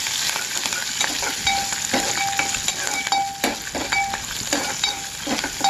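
Curry leaves and garlic frying in hot oil for Rayalaseema-style vellulli karam, a steady crackling sizzle with bursts of spitting and repeated metal clinks of a spoon stirring the pan.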